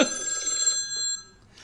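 A telephone bell rings once, bright and metallic, inside a busy farmers' market stall, then fades out, followed by faint background murmur.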